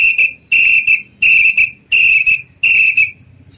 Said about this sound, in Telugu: ఇలాంటి విజిల్ ఇస్తే సిగ్నల్ గానే వచ్చింది అనుకోండి